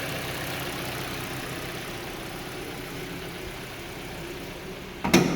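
A 2020 Kia Sportage front-wheel-drive idles with a steady low hum that holds smooth and even, ending in a brief louder knock or clunk at the close.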